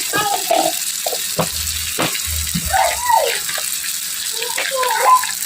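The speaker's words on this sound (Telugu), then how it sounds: "ఈ టమోటాని బాగా వేపుకోవాలి." Tomatoes frying in a pan for a kids' pasta snack, a steady hiss and sizzle throughout with soft stirring clinks over it.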